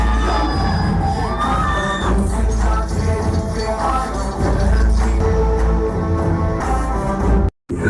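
Packed cinema audience at a Baahubali screening yelling, whooping and cheering loudly over film sound, a dense continuous crowd roar with a brief dropout near the end.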